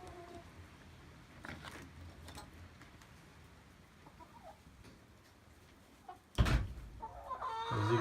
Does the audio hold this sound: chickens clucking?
yes